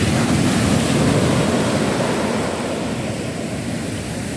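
Sea waves wash steadily onto a shore in the evening around half past six, a broad rushing surf mixed with wind buffeting the microphone, loud and continuous and easing slightly toward the end.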